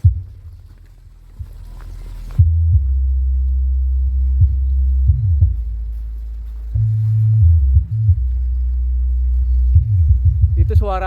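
Subwoofer bass from a FEST LD-10000 Class D power amplifier system, heard from about 50 meters away outdoors as a steady low booming throb with shifting bass notes, fairly loud and continuous.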